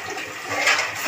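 A little water is poured into kharkol leaf paste for a Bengali vegetarian recipe. A short, close, steady gush of water runs for about a second and swells slightly at the end, with no talking.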